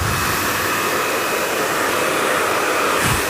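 A hair dryer blows steadily and loudly while mid-length hair is blow-dried over a brush, a constant airy roar that runs unbroken throughout.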